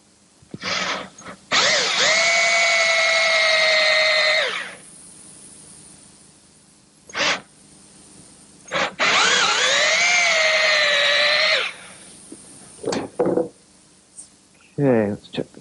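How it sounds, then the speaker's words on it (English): A power drill whines in two long, loud bursts drilling out rivets, pitch sagging as the bit bites in, with short clicks and brief noises between. "And I'll do that with a drill."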